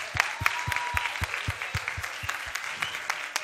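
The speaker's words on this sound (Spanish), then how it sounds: "Un fuerte aplauso para María, hombre." Audience applause at a FIRST LEGO League robotics competition, with steady rhythmic clapping that sounds fairly close, some claps louder than others.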